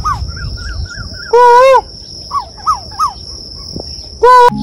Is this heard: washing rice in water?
no